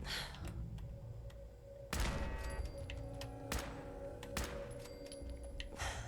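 Gunfire in Fallout 4 aimed at a laser turret, with several sharp, loud shots spaced a second or two apart over a humming game background, with ringing tonal effects after each blast and no talking.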